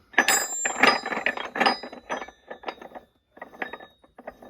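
Bearings in an MTZ-80 tractor gearbox are turned by hand, making a series of light metallic whirring and rattling bursts, irregular and close, with short pauses between turns.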